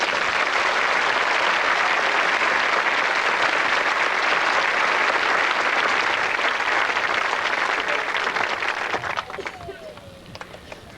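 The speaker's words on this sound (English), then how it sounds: "Let's have a round of applause for them." A large audience at a graduation ceremony applauds in a dense, sustained wash of clapping that holds steady for several seconds before tapering off at the end.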